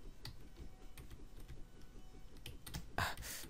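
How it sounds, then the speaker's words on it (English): Computer keyboard keys are hammered rapidly and unevenly during a game of Happy Wheels, with clustered clicks and taps close up and a louder burst near the end. "you can complete anything by spamming keys left and right"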